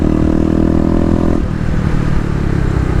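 Kawasaki KLX250 single-cylinder motorcycle engine ridden through city streets in cold weather, a loud steady drone with a sustained rev that drops in pitch partway through, continuous and close.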